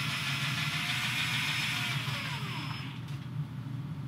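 A spin art machine whirs steadily as it spins a painted heart piece, giving a loud, continuous motor hum with no breaks for the whole stretch.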